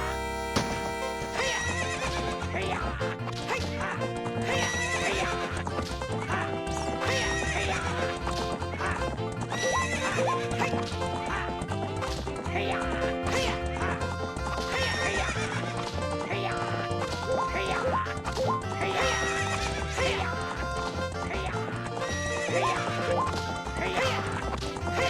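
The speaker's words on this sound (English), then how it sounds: "What's up with that horse?" A horse neighs and whinnies in Ocarina of Time amid busy, continuous game music, with clip-clopping hooves and occasional crashing effects.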